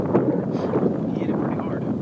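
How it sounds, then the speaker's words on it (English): Wind gusts across Lake Russell around a bass-fishing boat in October, a steady broadband rush buffeting the microphone throughout, with a voice faintly present beneath it. "Might be hard to hear me out here on this wind blowing"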